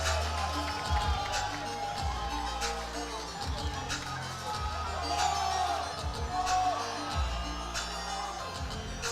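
Powerlifting crowd at the IPF Sheffield 2025 championships cheering and whooping in response to the lifter, a sustained loud roar with repeated shouts and rhythmic stomping thuds.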